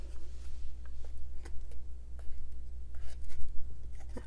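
Masking fluid peeled by hand off heavy Hahnemühle 600gsm watercolor paper, a run of soft rubbery tearing and snapping bursts spread unevenly through a low background hum, close and fairly quiet.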